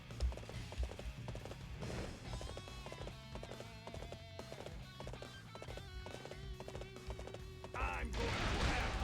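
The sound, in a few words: horse hooves galloping in Dynasty Warriors 8 video game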